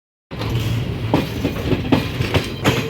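A passenger train runs on rails near Mangalore, Kerala, starting abruptly with a loud, steady rumble and repeated clickety-clack wheel beats over the rail joints, with no voices.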